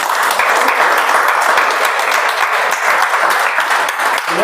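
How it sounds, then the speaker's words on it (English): A Toastmasters meeting audience breaks into a huge round of applause for all the participants, steady, loud, dense clapping from many hands sustained throughout with no pause. "let's have a huge round of applause for all the participants"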